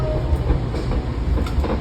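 Washington Metro rail car rolling on the rails, a steady rumbling ride with rhythmic clickety-clack wheel beats close by and continuous throughout.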